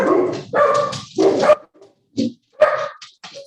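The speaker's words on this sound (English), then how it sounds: "sorry, the dogs." Several dogs bark and yip in quick, uneven bursts, fairly loud and close, with short pauses between volleys, heard during a city council meeting.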